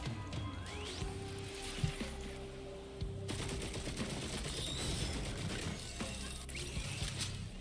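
Auto-turrets firing during a Risk of Rain 2 run, a busy stream of mechanical clicking bursts and rapid gunfire layered over game effects and a droning tone, moderately loud with no talking.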